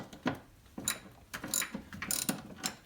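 A hand ratchet loosening 10mm bolts on a Mercury Milan, several short clicking bursts in a quick irregular rhythm, close and fairly quiet.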